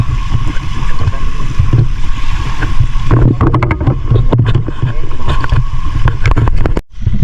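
A boat engine drones steadily beneath heavy wind buffeting at sea, with faint voices and rattling knocks partway through.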